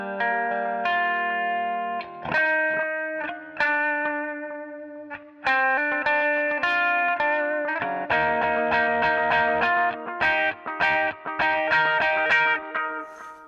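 Electric guitar played through a compact Boss ES8 pedalboard with the fuzz off and the compressor on, bright sustained chords and picked notes washed in reverb and delay, clean and even, with no talking.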